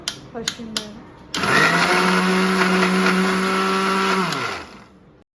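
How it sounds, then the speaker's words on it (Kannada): A kitchen mixer grinder blends bread pieces into fine crumbs. A few clatters and a short voice come first, then a loud, steady motor whine runs for about three seconds before winding down. "ಸೊ ಮಿಕ್ಸಿಗೆ ಹಾಕೋಣ ಇವಾಗ"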